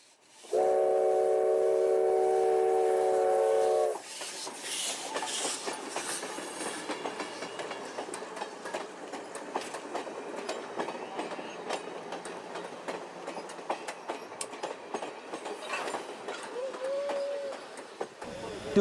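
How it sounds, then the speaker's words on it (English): A restored heritage train on a run by, from the Southern Ontario Locomotive Restoration Society, opens with a loud sustained horn blast, then rolls past with rhythmic clickety-clack and rumbling wheels, fading gradually while people talk faintly nearby. "the train's going to do a beautiful run by"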